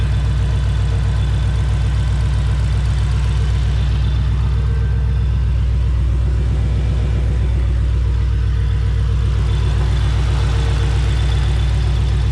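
A supercharged 3V Ford Mustang GT V8 with a swapped 6R80 transmission idles steadily after its first startup, a loud, close, continuous low rumble with an even pulsing beat and no speech.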